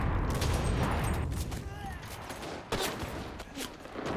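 Lee Enfield bolt-action rifle shots in the World War II shooter Enlisted, a few sharp cracks spaced apart amid distant battlefield gunfire, with someone talking over them.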